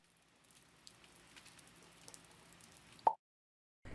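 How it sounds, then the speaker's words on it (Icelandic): Steady rain falls with a soft, even patter of drops, faint and continuous, then cuts off abruptly near the end. "Það er rigning í dag og droparnir falla stöðugt."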